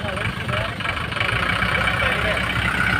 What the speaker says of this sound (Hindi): ये गाड़ियों का काफिला चल पड़ा है।